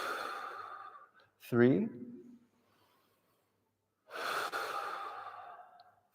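Deep, slow exhaling breaths during a guided spinal rotation stretch, two long breathy exhales separated by a silent pause, close to the microphone, with a brief spoken count between them.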